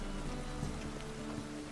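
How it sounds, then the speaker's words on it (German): Steady rain falls in The Witcher 3 video game, a constant even patter that fills the whole moment with faint tonal game ambience beneath it. "Die Hexen haben schon wieder Regen beschworen."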